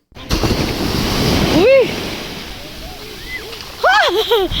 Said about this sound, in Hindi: तो और बड़ी गहरी गहरी लहरें आती हैं।